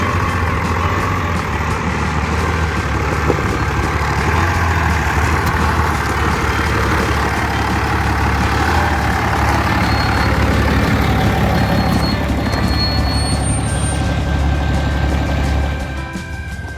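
Trucks crawl off-road near Yuma, Arizona, towing a Black Series camper, their engines a loud, continuous low rumble that swells and eases slightly before fading at the end, with no talk.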